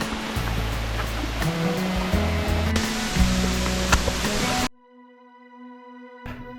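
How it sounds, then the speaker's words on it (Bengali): Saingpra waterfall near Alikadam roars loud and close as a dense, steady rush for about four and a half seconds, then cuts off abruptly to near quiet with faint tones. "তো এখানে দেখা যাচ্ছে ঝর্ণা, চলো দেখাচ্ছি ঝর্ণা।"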